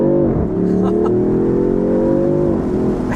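A 2026 Dodge Charger Six Pack Scat Pack in sport mode revs up loudly and close, its engine note climbing steadily for about two seconds before easing off, heard from inside the car.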